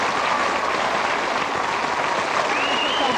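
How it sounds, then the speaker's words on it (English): Dense, steady applause from an audience at a magicians' club show, continuous clapping for a few seconds with a faint voice or whistle cutting through near the end. "Can you give these two gentlemen a wonderful round of applause?"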